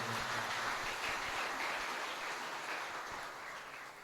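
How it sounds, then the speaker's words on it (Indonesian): Seminar audience applauding in a hall, a dense, steady wash of clapping that holds throughout and eases slightly toward the end, with no speech over it. "Mungkin tepuk tangan untuk perempuan-perempuan hebat yang ada di ruangan ini."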